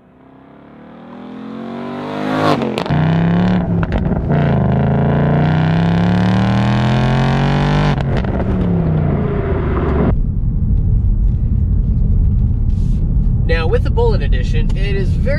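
A 2019 Ford Mustang Bullitt pulls away on a drive, its engine swelling from quiet into a loud, steady drone that shifts pitch as it runs, with a voice speaking over it.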